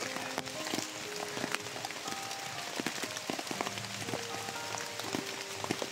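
Steady rain falls outdoors, a dense continuous patter with scattered louder drops striking surfaces nearby, while faint animal calls sound in the background; no one speaks.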